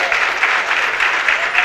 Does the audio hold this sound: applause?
yes